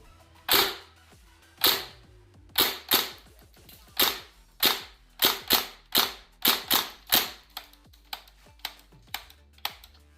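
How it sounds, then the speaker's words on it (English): An Aliens M41A pulse rifle gas blowback airsoft gun fires semi-automatic shots. About twenty sharp, close cracks come in an uneven rhythm, speeding up in the middle and thinning to fainter pops at the end, with no talking. "I think I've got enough for a few semi shots"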